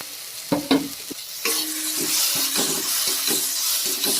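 Spice masala with slit green chillies and sugar sautéing in a pan, a loud close sizzle with repeated scraping spatula strokes at an irregular rhythm, no talking.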